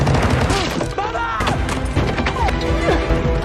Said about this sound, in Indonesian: Karena baku tembak barusan, Danny sempat terkena peluru nyasar